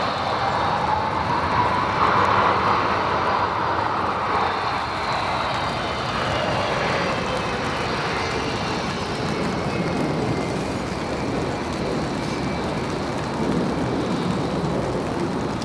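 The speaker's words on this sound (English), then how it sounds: "Incredible sound from that 757." A Boeing 757 jet airliner at O'Hare Airport gives off a broad sustained engine roar that shifts slowly in pitch, heard from some distance with steady rumbling noise throughout.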